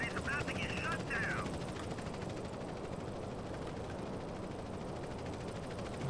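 Loud, steady rotor-like thrum of a helicopter in the video game GTA: San Andreas, with rumbling low-end noise, constant throughout, with a brief higher mechanical whine early on.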